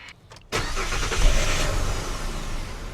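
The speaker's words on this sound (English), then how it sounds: "Now that definitely did spin the engine up faster than with the battery alone" A Ford FG Falcon XR6 car engine cranks briefly on a portable jump starter, catches and fires up, then settles into a steady, fairly loud idle after a short quiet moment at the start.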